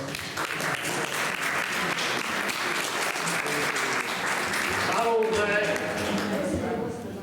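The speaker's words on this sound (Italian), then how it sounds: "Un applauso a Roberto." Steady crowd applause, dense and continuous throughout, with a few scattered voices and a brief shout near the end.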